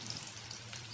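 Onions hit hot oil in a pan with a soft, continuous hiss of frying that holds steady and fairly quiet, with no talking.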